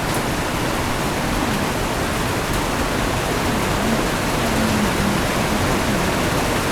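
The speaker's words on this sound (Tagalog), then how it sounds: "malakas ng ulan" Steady, dense downpour roars without pause, a heavy rain hiss filling everything evenly from start to finish.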